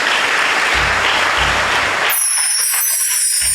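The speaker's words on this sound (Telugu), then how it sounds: "చప్పట్లు కొట్టండి అందరూ" A church congregation claps together for two seconds in a dense, loud burst of applause, then the hall falls quiet apart from faint high ringing.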